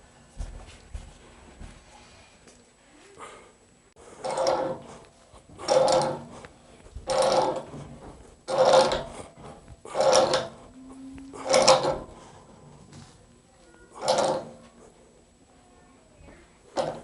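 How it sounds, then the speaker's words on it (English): Pressure relief valve fittings threaded by hand into the tappings of a Firebird boiler, heard as a series of roughly ten rasping, grinding twists at a steady pace, close and fairly quiet with brief pauses between turns. "We're going to thread our pressure relief valve fittings in."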